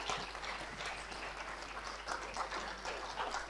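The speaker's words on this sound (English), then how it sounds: "A big round of applause for them" Sustained applause from a crowd, a dense steady patter of clapping hands filling the space without pause.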